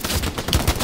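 Gunshots in the video game Hell Let Loose: a few sharp, fairly loud shots spread across a short burst of steady battlefield noise, with no talking.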